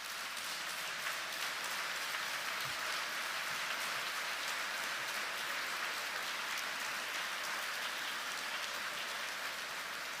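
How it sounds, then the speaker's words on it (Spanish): A church congregation applauds together, a dense, steady wash of clapping that holds at an even level for about ten seconds with no voices over it. "Denle un fuerte aplauso al Señor."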